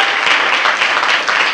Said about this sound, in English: Can we give them a round of applause putting this together?